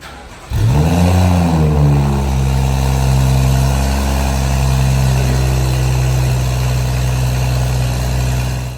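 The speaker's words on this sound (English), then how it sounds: "I managed to connect the downpipe and now we can hear the stock sound again." A BMW F20 M135i with its stock downpipe exhaust fires up after a brief pause, surging, then settling into a loud, steady, close idle that runs to the end.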